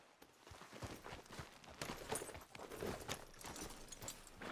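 Horse hooves clip-clop steadily in Red Dead Redemption 2, a continuous rhythmic walking patter at moderate distance, faint and without talk.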